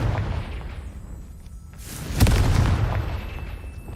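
A Confringo spell blast goes off in the Hogwarts Legacy video game on PS5, one loud, close booming explosion with a long rumbling roar that fades slowly.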